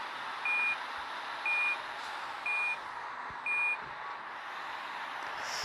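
Reversing beeps from a truck in a truck simulator game, four evenly spaced loud tones about a second apart over a steady engine hum.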